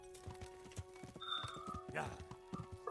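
A horse in Kingdom Come: Deliverance gives a steady clip-clop of hooves and a short whinny partway through, all fairly quiet, with faint ambient game sounds behind it.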